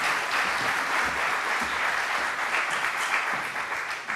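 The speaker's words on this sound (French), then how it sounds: "Merci de les applaudir pour cette première partie." An audience at a conference applauds its guests, a brief burst of steady, dense clapping from a roomful of people that fades slightly at the end.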